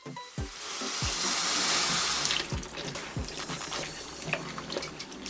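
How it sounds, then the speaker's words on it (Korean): Tap water runs into a kitchen sink while pork is rinsed for a soy-braised dish. A steady rush of water is broken by low thumps and splashes as the food is handled. "깨끗이 씻어주고"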